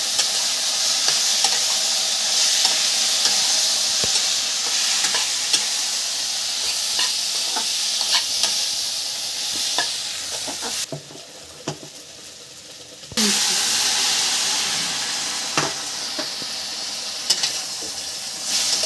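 Ginger, cumin and chili powder fry in hot oil for a Bengali cauliflower stem curry, a loud steady sizzle with stirring scrapes, briefly dropping quieter before the sizzle surges back.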